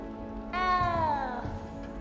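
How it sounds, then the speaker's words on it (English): A small cat in the video game Hogwarts Legacy gives one drawn-out, falling meow over steady game ambience, close and fairly loud. "You don't need to be frightened, little cat."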